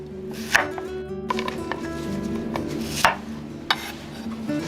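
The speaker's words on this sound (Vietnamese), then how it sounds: "Đầu tiên mình cắt hành tím lát to như thế này." A knife slices shallots on a board in a few separate crisp thuds and slices over a faint low hum.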